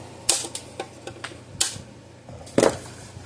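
A pair of snips cuts through wires inside a Red Snap'r 50 Mile fence charger, giving a few sharp close clicks and snaps spaced irregularly, with one louder snip near the end.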